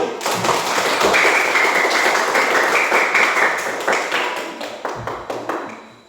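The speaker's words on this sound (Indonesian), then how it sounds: "Kita tepuk tangan buat kelompok 1" Classroom of students clapping together for a group, a dense burst of handclaps lasting several seconds, fairly close and loud, thinning into scattered claps toward the end.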